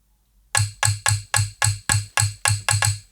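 Sharp, bright knocks from two pieces of wood struck together, recorded and EQ'd into a percussion sample, repeating about ten times in a fast, even rhythm, loud and close with no talk.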